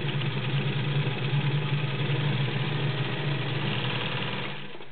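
An Elgin straight stitch sewing machine with a 1.5 amp motor runs at full speed, a loud, close, steady mechanical whir and rapid stitching hum that slows slightly at the very end, with no talking.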